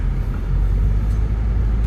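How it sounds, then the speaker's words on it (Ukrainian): A Renault Megane 2 on new winter tyres stuck in heavy snow in second gear, wheels spinning, giving a loud, steady low engine and tyre rumble heard from inside the car, without talk. "На другу переключився і просто пробуксовує."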